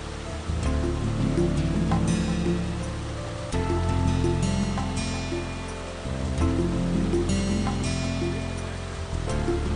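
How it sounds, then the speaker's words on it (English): Steady, full rush of splashing water from four poolside waterfalls, continuous and close, with slight swells in loudness. "the four waterfalls together make a wonderful, rich, restful sound"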